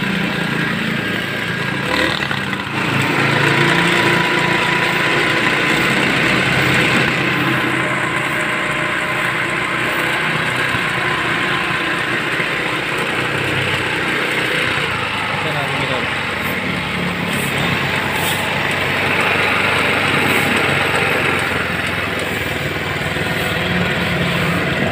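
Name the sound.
Motorstar Easyride 150 motorcycle engine running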